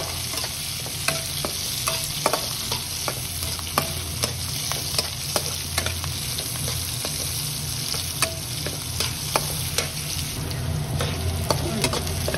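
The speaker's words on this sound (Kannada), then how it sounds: "ಈರುಳ್ಳಿ ಫ್ರೈ ಆಗ್ತಾಯಿದೆ. ಚೆನ್ನಾಗಿ ಫ್ರೈ ಮಾಡಬೇಕು." Onions frying in a pan for a drumstick leaf bassaru, a steady close sizzle with frequent sharp stirring scrapes of the spoon against the pan, no voices.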